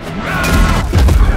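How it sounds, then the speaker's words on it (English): Shockwave attack in a video game: a loud, sustained rumbling blast with a dense low roar and crackling texture, swelling and then hitting again partway through, filling the short moment. "I'm trying to use this shockwave on him"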